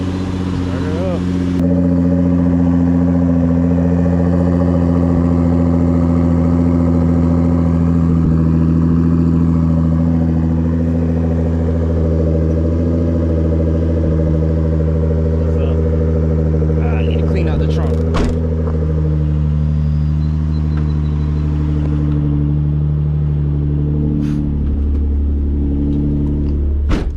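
A twin-turbo Nissan 350Z making over 500 wheel horsepower fires up and settles into a loud, steady, deep engine drone heard up close, holding an even rumble throughout.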